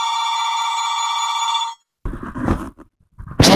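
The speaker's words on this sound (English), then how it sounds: "the phone was ringing" A telephone rings loudly and steadily with a bright electronic trill for under two seconds in a luthier's workshop, then stops and is followed by brief rustling and clattering.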